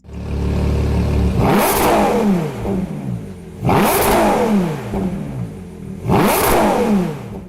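A naturally aspirated 6.5-liter V12 engine revs hard three times, each rising into a shrill high-pitched scream before dropping back, with a rumbling idle in between.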